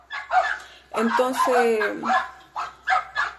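Several dogs in a home bark and yip briefly in the middle of a woman's speech, sharp close barks with a whining tone, while she talks before and after.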